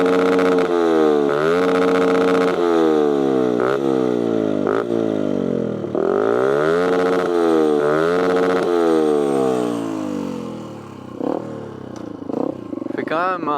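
A Fantic 125 motorcycle engine revs up and down repeatedly, close and loud, each rise and fall sweeping in pitch, then eases off toward the end with a few short blips; speech is faintly present.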